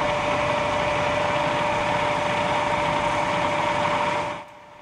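A Bridgeport milling machine runs under power with its down feed and clutch engaged, a steady close mechanical hum and whir that holds evenly before cutting off abruptly near the end.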